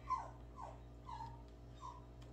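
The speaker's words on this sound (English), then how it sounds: "Those are my dogs you hear." Several dogs whimper and yip indoors in a few short, separate bursts. The sounds are fairly faint over a steady low household hum, and no one talks.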